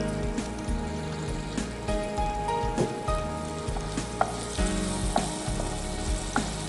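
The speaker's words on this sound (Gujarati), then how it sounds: "ડુંગળીને થોડી સાંતળી લઈશું આપણે" Chopped onion sautés in hot oil with cumin and asafoetida, a close, continuous sizzle dotted with small crackles and pops throughout.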